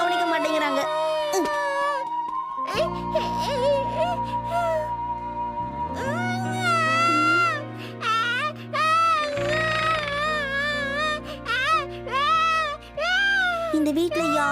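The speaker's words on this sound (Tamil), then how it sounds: "பாத்தியா, உள்ள குழந்தை அழுதுகிட்டு இருக்கு" An animated infant in a cartoon cries and whimpers in high, wavering wails, with a voice speaking over and between the cries and music underneath.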